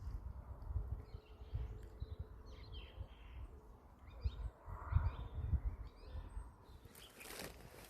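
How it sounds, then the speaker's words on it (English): Birds chirp and call intermittently on a quiet spring hillside near a Neolithic cairn in Wales, with soft, moderately distant calls over low wind rumble and occasional fluttering. "the sound of the birds singing"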